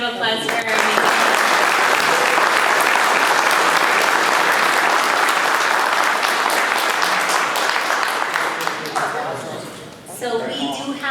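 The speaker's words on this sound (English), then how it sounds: "Let's have a huge round of applause for our amazing." Loud, sustained audience applause at a construction-industry apprenticeship event, dense clapping filling nearly the whole stretch before thinning out near the end.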